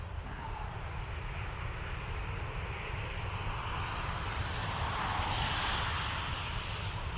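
Ryanair Boeing 737-800 jet airliner at Dublin Airport, a steady broadband engine roar that holds throughout and swells slightly near the end as the aircraft moves, with no talk over it.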